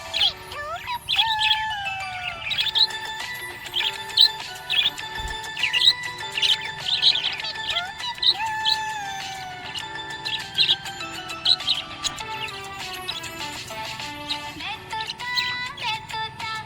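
A budgie chirps and tweets continuously over a soft musical backing, with bright, rapid twittering calls and warbles that keep going throughout, close and fairly loud.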